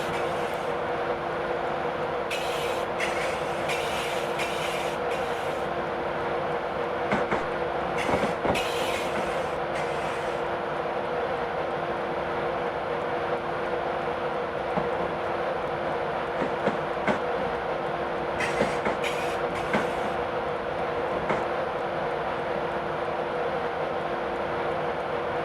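A Class 91 electric train coasts into Peterborough station in Train Simulator 2015, a steady rolling rumble with repeated clickety-clack wheel beats and occasional brief squeals, continuous and even throughout.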